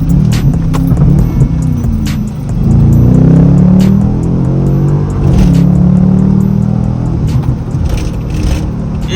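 A Chevy Camaro SS with a crackles-and-pops exhaust tune rumbles loudly from inside the car while driving, with engine surges and scattered sharp crackling pops.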